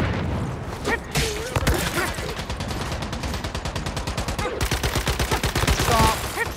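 Gunfire in the video game Once Human: rapid automatic bursts of shots in a steady rhythm, loud and close, with a brief pause between volleys and voices talking over it.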